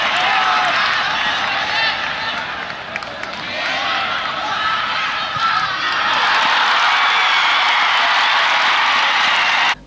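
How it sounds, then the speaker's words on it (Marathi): Supporters at a Shahu Chhatrapati KSA League football match in Kolhapur applaud and cheer after a 20th-minute equalising goal, a dense, steady wash of crowd clapping and noise filling the whole stretch, loud and continuous. "छत्री याच्या या गोलचं प्रॅक्टिसच्या समर्थकांनी टाळ्या वाजवून कौतुक केलं"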